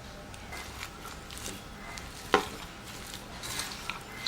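Chopped onion, coriander, ginger, green chili and curry leaves being mixed with sweet potato for vada, soft close stirring and patting with one sharp clink partway through and faint rustles around it, no voices.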